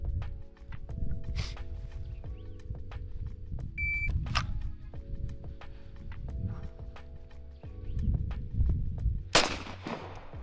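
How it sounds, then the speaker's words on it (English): Glock 17 pistol shots ring out as a few sharp, widely spaced cracks over a busy background of low rumble and steady tones, the last report being the loudest. "Starting with the Glock 17. All right, 5 rounds."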